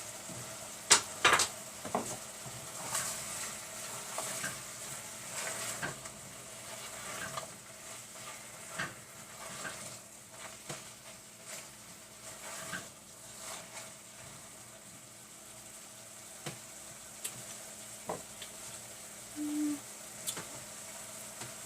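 Chopped peeled pear and apple cooking in a pan for a vegan cinnamon strudel filling, a soft steady sizzle with occasional stirring scrapes and clatters, moderately quiet and with no voices.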